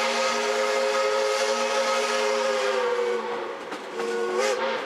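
A train whistle blows in a long, steady, loud tone while riding a heritage steam train through a tunnel, with the sound swelling and dipping slightly near the end amid rail rumble.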